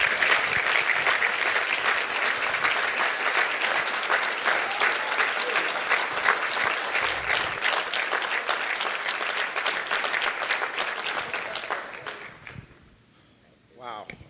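A live event audience applauds and cheers loudly and steadily, the dense clapping fading out near the end before a brief swell returns.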